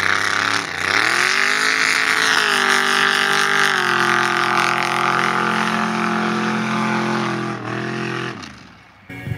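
A mud drag racing vehicle at the Valemount Mud Drags roars at full throttle, a loud sustained engine wail that climbs in pitch, holds steady and then cuts off near the end.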